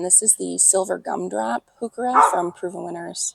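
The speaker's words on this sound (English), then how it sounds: "Sorry for the dog barking." A dog barks in short bursts in a backyard garden in Minnesota in mid-July, eager to get into the neighbor's house, heard under someone talking steadily close up.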